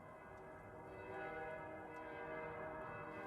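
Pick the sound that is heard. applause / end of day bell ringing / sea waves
end of day bell ringing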